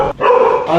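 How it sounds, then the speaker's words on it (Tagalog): A dog barks steadily and loudly nearby throughout, with a brief dip early on, during a delivery drop-off at a residence in the Philippines. "Ilang aso sir?"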